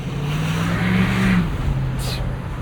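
A 2016 Ford F-350 Lariat Super Duty with a 6.7 Powerstroke diesel pulls under throttle, its low engine drone rising steadily from inside the cab before easing off.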